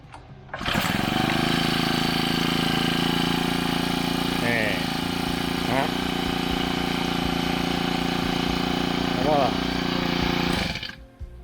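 A new 4-stroke backpack brush cutter engine starts up and settles into a steady, loud idle that runs for about ten seconds, with a few brief throttle blips, then cuts off.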